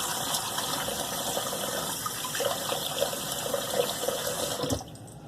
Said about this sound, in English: Let me rinse with some cold water and get to my aftershave.